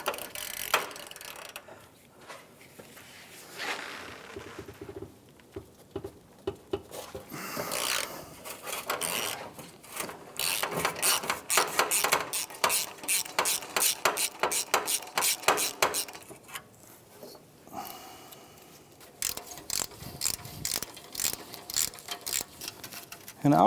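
Ratchet wrench backing out 12 mm heat shield bolts on a Mitsubishi Outlander, rapid pawl clicking in repeated bursts with scraping metal and short pauses between runs, fairly close.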